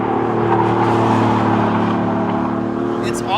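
A BMW i8 sports car's three-cylinder hybrid engine, boosted by artificial engine sound, revs and drones with a loud, steady, growling hum from close by.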